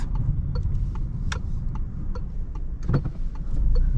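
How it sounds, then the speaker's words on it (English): Regular soft ticking of a 2021 Citroën C3 110 hp petrol car's turn signal over the low hum of the running engine inside the cabin, at night. "nice relaxed sound of the indicators."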